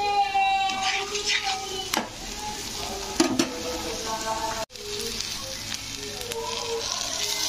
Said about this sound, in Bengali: পেঁয়াজটাকে দেখো ভালো করে আমি ভেজে নিয়েছি একেবারে